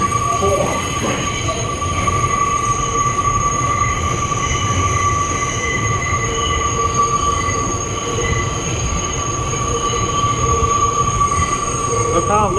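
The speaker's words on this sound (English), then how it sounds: "This is an East 180th Street bound 5 train." An R142 5 train running express in the New York City subway, with a loud continuous rumble and sustained high-pitched wheel squeal on a curve throughout, no talk.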